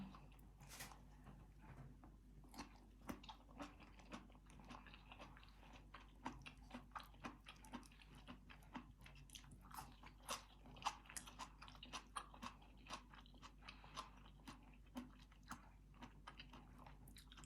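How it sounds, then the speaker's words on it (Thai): Steamed mixed mushrooms being chewed up close, producing soft, wet, squelching bites and crunches in a steady irregular rhythm, with no talking over them. "เวลากินเห็ดนะคะ ต้องเคี้ยวให้ละเอียดละเอียดเลยนะคะ"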